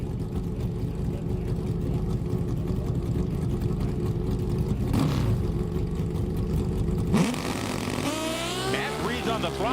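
Suzuki drag racing motorcycle at an NHRA meet at Virginia Motorsports Park in Richmond, its engine roaring on the throttle in a loud, steady blare that shifts near the end into rising, sweeping engine tones.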